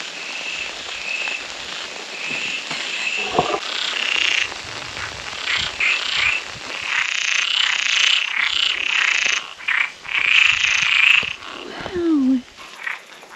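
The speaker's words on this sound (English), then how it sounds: "The frogs are singing." Many frogs croak and trill in a loud, continuous chorus, with rain-like hiss beneath and occasional brief voices.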